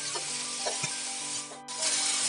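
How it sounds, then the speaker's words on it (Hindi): Potato pieces fry and sizzle in a little oil over high heat, giving a steady, close crackling hiss with faint stirring scrapes throughout. "अब मैं फिर से कुछ बूंदे तेल की दूंगी और आलू को फ्राई कर लूंगी।"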